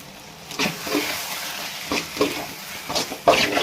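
A spoon stirs eggplant thokku frying in oil with freshly added curry leaves, giving soft sizzling and a series of separate scraping strokes against the pan, close and moderately loud with no voices.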